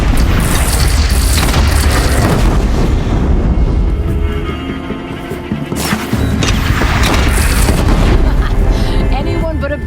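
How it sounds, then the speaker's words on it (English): Heavy cannon fire booms from a bandit gun during a Horizon Zero Dawn battle, loud repeated explosions and crashes packed densely over continuous rumbling combat noise. "They only have one cannon!"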